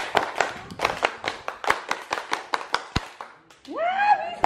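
A group performs the rhythmic Scout clapping routine known as tepuk pramuka, sharp claps in a patterned sequence of quick bursts and pauses, fairly close. A voice begins speaking right after the final claps.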